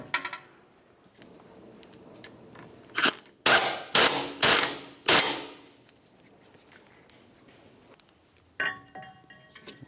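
Tightening a T40 torque screw on a Ford Flex brake rotor, heard as a series of sharp, loud ratcheting or impact bursts with gaps between them, followed by lighter metallic clicks, with no speech.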